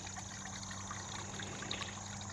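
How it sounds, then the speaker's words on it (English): Spring water trickles steadily into a small farm creek, a faint continuous babble over a low background hum. "This is from one of the springs that's on our farm. It runs most of the time here into this little creek"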